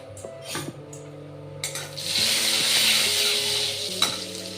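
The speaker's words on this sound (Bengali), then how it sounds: "কড়াইতে একটু সামান্য সরষের তেল দিচ্ছি, আগে দিচ্ছি সামান্য একটু ঘি, হিং ফোড়ন দেব।" Ghee and mustard oil sizzle in a wok as asafoetida hits the heat, a steady frying hiss swelling midway, with a few clanks of a utensil against the pan.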